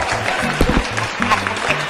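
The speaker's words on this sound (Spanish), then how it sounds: "entonces un aplauso para ellos que lo están haciendo excelentemente bien" Brief, moderate applause from a small audience, a steady patter of clapping with some voices mixed in underneath.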